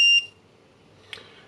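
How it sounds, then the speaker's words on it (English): The Dovoh P4-360G 360 laser level gives a short, sharp electronic beep at the start because it cannot align at that angle, followed by near silence and a faint brief tick. "you can hear the beep, and now you know that the laser cannot align that angle"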